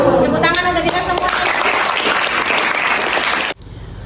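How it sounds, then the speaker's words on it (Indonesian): A classroom group claps together, with loud, dense applause mixed with voices, and then cuts off abruptly near the end. "Tepuk tangan untuk kita semua."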